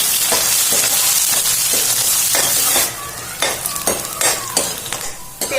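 Chopped onion hitting hot oil with cumin seeds in a kadai, a loud dense sizzle that drops to a softer crackle, with intermittent stirring clanks of a spoon against the pan.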